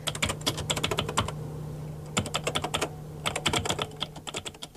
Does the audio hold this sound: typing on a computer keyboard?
yes